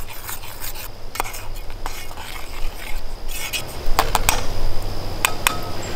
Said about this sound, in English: Mix that stuff in.